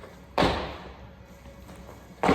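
A person landing tuck jumps during a workout: two heavy, sharp thuds about two seconds apart, each with a short fading tail. Quiet room tone fills the gap between them.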